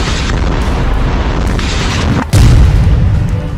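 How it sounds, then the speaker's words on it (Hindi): A loud, distorted deep boom from an Israeli airstrike in Gaza rolls over a constant rumbling roar, with a sharp heavier blast surging in partway through. "वहीं पर इजरायल ने हवाई हमला कर डाला।"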